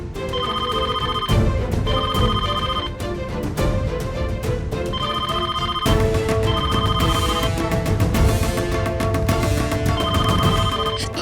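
A telephone rings late at night, a loud, repeating electronic ring in steady bursts with brief gaps, continuing throughout with no speech.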